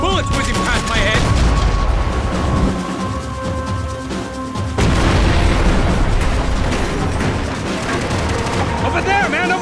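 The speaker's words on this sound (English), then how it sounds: "I can't concentrate with bullets whizzing past my head." Gunfire and explosions in the video game Max Payne 3, a loud, dense barrage of booms and shots that goes on throughout, with music and voices mixed in.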